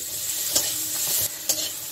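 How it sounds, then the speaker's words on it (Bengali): Brief close sizzle of tomato and vegetables frying, broken by a couple of quick spatula scrapes against the pan. "সব একসঙ্গে আমি একটু ভেজে দিচ্ছি"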